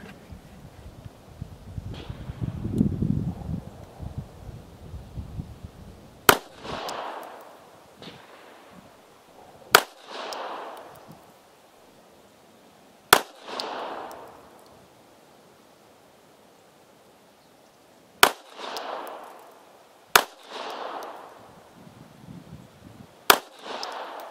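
Several sharp pistol shots from a Polish P-83 Wanad firing Brown Bear ammunition ring out one at a time at uneven intervals of a few seconds, each loud crack trailing into a brief outdoor echo with no talking.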